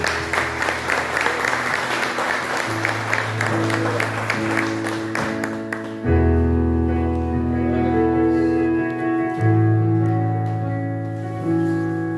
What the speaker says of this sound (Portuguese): Você pode dar uma chuva de palmas para esse Deus